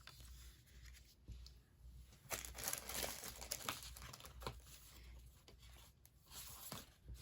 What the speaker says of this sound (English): So I just take this card and I fold it in half.